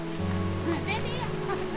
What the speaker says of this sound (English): The way that the water just shakes the stones, like you can see the crevices here and comes down and hits the stone.